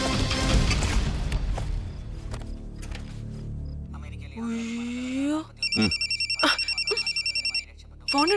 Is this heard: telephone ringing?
yes